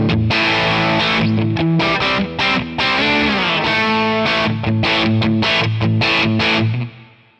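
An electric guitar played through the Amalgam Two Rock OD100 Tonex amp model rings out in driven, saturated chords and note runs, loud and alone, ending as the last chord cuts off.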